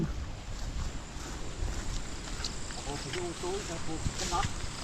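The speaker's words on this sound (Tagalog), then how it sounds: "Ang lakas po ng persya ng hangin." Strong wind roars and buffets the microphone in continuous gusts, with faint voices briefly audible beneath the rumble.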